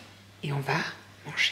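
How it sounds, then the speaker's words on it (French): A short cat meow sounds under a person speaking quietly, followed by a brief higher-pitched cry. "C'est le chat."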